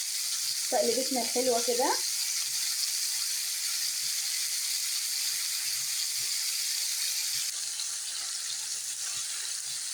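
Onions sizzle and hiss steadily in a hot pan while Egyptian-style sausage is being prepared, a soft continuous frying sound throughout, with a brief spoken phrase near the start.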